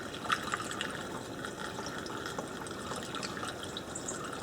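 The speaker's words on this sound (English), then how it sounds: "So you've got a chance of pouring the fuel a tad faster." Fuel pours through a funnel into the tank of a post hole digger, a soft trickling, gurgling liquid flow heard close and fairly quiet, continuing steadily for several seconds.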